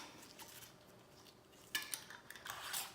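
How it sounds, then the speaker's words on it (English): Lid being put onto a hot glass pickling jar packed with habanero peppers and garlic: faint clinks and scrapes of metal against glass, a few sharper taps near the end over quiet room noise, no talk. "Then I'm gonna put our lid on it."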